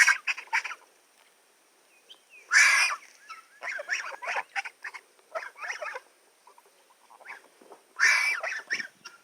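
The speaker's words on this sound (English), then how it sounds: "They still don't sound like grown geese yet, but they're getting close." Young geese call in a farmyard, their changing voices giving repeated high, squeaky honks and chirps in short bursts, close and moderately loud, with other fowl faintly around them.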